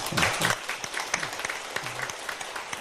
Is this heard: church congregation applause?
yes